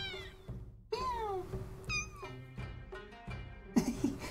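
A pet cat meows close to the microphone, giving several short calls that rise and fall, fairly loud, with a bump near the end.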